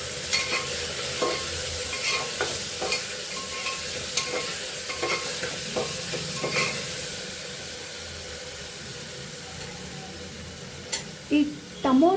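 Garlic paste stirred and frying with pulao masala in a pan, a steady sizzle broken by repeated scraping strokes of a spoon, close and moderately loud, with a few louder clatters near the end.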